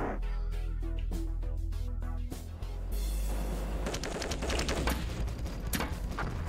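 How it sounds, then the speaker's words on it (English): Rapid gunfire from gray cyborg enemies in the video game Marathon, a stream of sharp repeated shots layered over a low droning game soundtrack, growing denser and louder in the second half. "Those gray guys are shooting at us."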